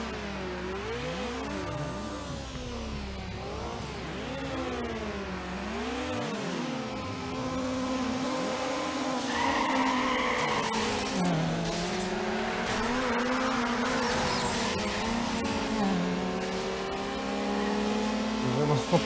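A turbocharged street car in the racing game Need for Speed Underground accelerates hard, its engine revving up through rising, sweeping gear changes in a loud, continuous roar, with someone talking over it.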